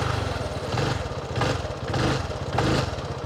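A TVS XL100 motorcycle engine runs steadily with a slightly rough, pulsing note, moderately close and alone, rising and falling gently in a regular rhythm.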